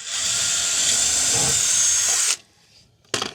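A power drill whines steadily for about two seconds while drilling into wood, cuts out, then briefly spins up again.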